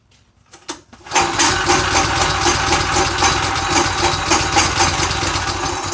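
A free go kart engine gets a couple of quick pulls and catches, then settles into a loud, steady, buzzy idle at close range.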